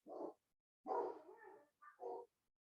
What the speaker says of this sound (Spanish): los perros se pusieron a ladrar